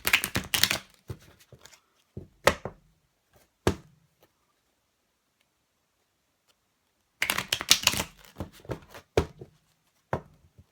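Tarot cards are shuffled close up in two rapid, riffling bursts separated by a few seconds of silence, with a few sharp taps between.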